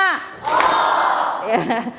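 Classroom group clapping a counted rhythm pattern, a short burst of hand claps and thumps from many pupils mixed with voices calling out, ending in scattered chatter.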